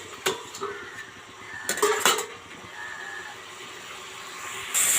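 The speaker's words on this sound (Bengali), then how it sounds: "আমি একটা থালা চাপা দিয়ে দেবো এর মধ্যে" Kitchen clatter as a metal plate is set over a pan of frying kundru, a few clanks close by against a quiet hiss, with a brief rush of steam at the end.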